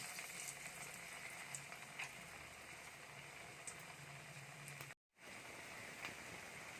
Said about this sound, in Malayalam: ഇതേ എണ്ണ ചൂടായിട്ടുണ്ട് ഈ എണ്ണയിലൊക്കെ ഇട്ട് കൊടുക്കാം